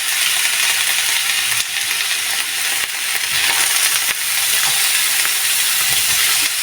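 Chopped garlic, eight to ten cloves, frying lightly in oil for a dried red chilli mash, giving a steady loud hiss and crackle that runs the whole time with only brief dips.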